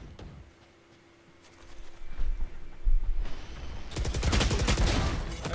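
Gunfire in the video game Valorant on the Haven map: scattered shots build into loud, rapid bursts and sustained automatic fire that dominate the final seconds.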